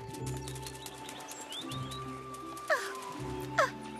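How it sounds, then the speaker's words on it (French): Cartoon birds sing in a bright, divine-looking spot, with light chirps and short rising tweets over a soft musical bed. Two sharper, louder calls stand out near the end. "le chant mélodieux des oiseaux qui dansent dans l'azur"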